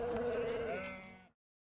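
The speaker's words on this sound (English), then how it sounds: "Fat lambs for meat production." Fat lambs raised for meat bleating on a farm, one loud, close, wavering bleat that holds for about a second before cutting off.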